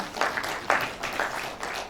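Conference audience applauding Dr. Fayemi, a university pro-chancellor: faint, brief clapping that swells in a few soft waves.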